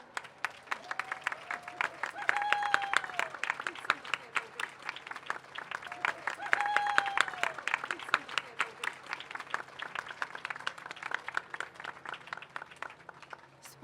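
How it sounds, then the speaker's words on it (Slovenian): A large outdoor crowd at a pro-life march in Ljubljana claps in sustained applause, rising and falling in two waves, with some voices and whistle-like tones mixed in. "še prej pa en velik aplavz"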